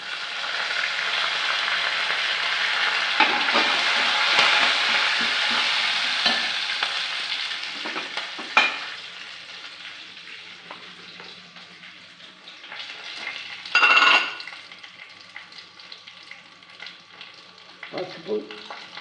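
Curry leaves and sesame seeds sizzle loudly in hot oil as they are stirred, a dense crackling hiss that fades and flares with a few sharp scraping bursts.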